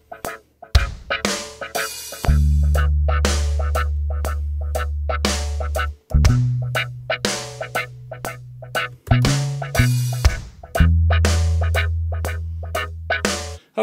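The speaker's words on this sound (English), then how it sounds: "a dominant bass line that sometimes skips a beat on one." Reggae-style arrangement of a pop song with a heavy, dominant bass line that sometimes drops the first beat, sustained low notes under crisp offbeat percussion hits, loud and steady with no voices.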